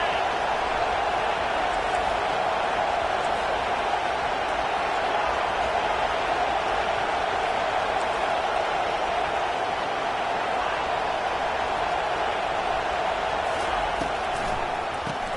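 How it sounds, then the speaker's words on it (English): A packed football stadium crowd roars in a steady, unbroken wash of noise throughout, loud and distant, with no clear single voices standing out. "This crowd trying to make life miserable for this offense."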